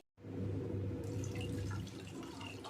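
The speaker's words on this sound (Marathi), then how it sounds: "म्हणून थोडं पाणी टाकायचं" Water pours steadily into a pan with a close, splashing rush, beginning abruptly after a moment of silence and continuing without pause.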